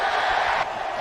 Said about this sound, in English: It's the biggest cheer of the afternoon.